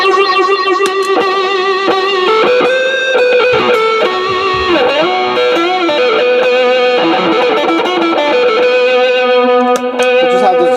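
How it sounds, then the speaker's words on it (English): A loud electric guitar plays a continuous, heavily overdriven line, boosted and distorted, with sustained notes and bends filling the whole stretch. "Now we'll have the boost and the distortion on."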